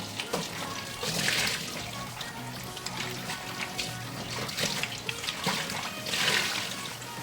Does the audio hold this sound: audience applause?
no